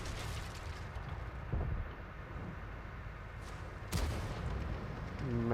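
A tank gun fires in a video game match, heard as a few muffled, moderately loud booms spread across the span over a low rumbling background, with one sharper blast near the middle.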